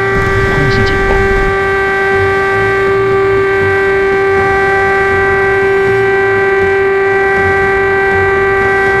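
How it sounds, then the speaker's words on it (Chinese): Air raid siren in a fighter jet and helicopter combat game, a loud continuous steady wail holding one pitch throughout over a low rumble. "空袭警报！"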